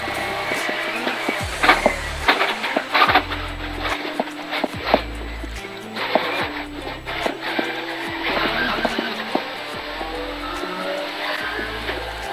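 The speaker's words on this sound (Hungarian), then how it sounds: "A Top Cars Skodája remekül működött alatta" A Top Cars Skoda rally car races flat out through a tight asphalt stage at the Szilveszter Rallye. Its engine roars loud and near, rising and dropping in repeated stepped gear changes with tyre noise and clatter.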